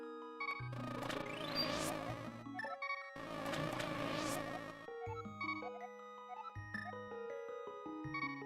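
Magic bees buzzing in The Legend of Zelda: A Link to the Past, two sustained synthesized buzzing bursts followed by chiming game music tones, with no talking.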